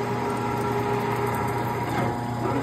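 A Bulgarian C10 metal lathe single-point cutting a 60-degree thread runs as a steady, close mechanical hum with a high motor whine and faint rattle, continuous and unbroken.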